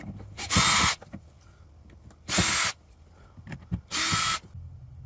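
A power drill backs screws out of a spa's side panel in three short, loud whirring bursts, with quiet handling noises in between.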